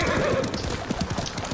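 A horse in the video game Ghost of Tsushima whinnies once, a brief shrill neigh, over a run of close clip-clopping hoofbeats, with no speech.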